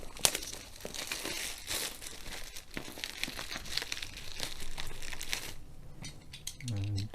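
Cellophane wrapping is peeled off a diamond painting kit with a steady run of close, crinkly crackling and soft tearing, with a few sharper snaps near the start.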